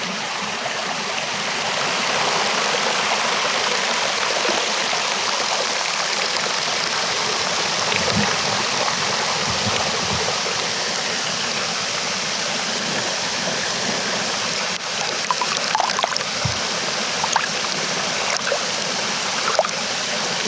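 Creek water full of granite sand rushing over rocks, a loud, constant close-up wash of flowing water with occasional small splashes and knocks, no voices.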